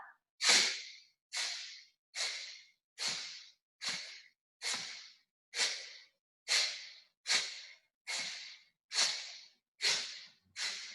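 A yoga practitioner breathes out in rapid, forceful exhales, about a dozen sharp puffs in a steady rhythm like a steam locomotive, close and alone without talk.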